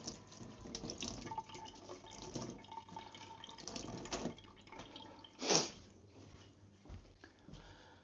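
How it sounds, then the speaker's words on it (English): Water runs from a tap and splashes into a sink for a damp wash, with a steady hiss and a few louder gurgles and drips, faint and nearby. "I'll just give it a damp water wash now."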